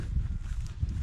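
Low, muffled thuds of draft horse hooves walking at a steady pace, fairly close, with no talking.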